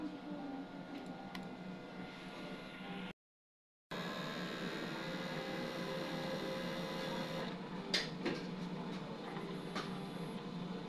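An Epson XP600 printer runs a print-head cleaning cycle at a print station in Fisher Mall. It gives a steady mechanical whirr with faint ticking, one brief cut-out of sound, and a few sharper clicks near the end, with no talking.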